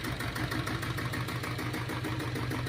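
A Royal Enfield diesel Bullet, a vintage motorcycle, idles steadily nearby with an even, loping low thump that holds at a constant level throughout and has no voices over it.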